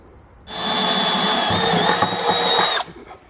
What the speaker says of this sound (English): grab a small drill bit, drill a pilot hole, and slowly work our way back to that 1/2" bit